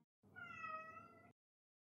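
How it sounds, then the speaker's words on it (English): A cat gives a single drawn-out meow of about a second, close and clear, with nothing else around it. "Oh, that's my cat."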